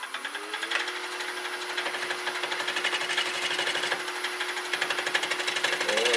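Gouge cutting a wet, freshly turned wooden bowl on a lathe, a steady rhythmic chattering scrape with regular bumps as the tool meets the uneven surface, close and continuous throughout.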